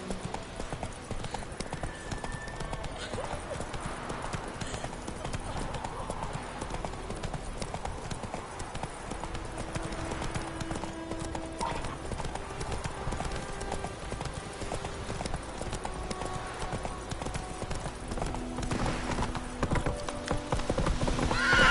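Horse Roach gallops in The Witcher 3, steady clip-clop hooves pounding under game music and ambience, with an occasional whinny and a man urging the horse on.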